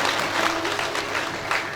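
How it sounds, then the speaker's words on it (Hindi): A large audience at a Ram Katha gathering in Sundarnagar claps steadily to welcome a former MLA. The dense, close applause continues evenly throughout. "ताली बजाकर के उनका अभिनंदन करें।"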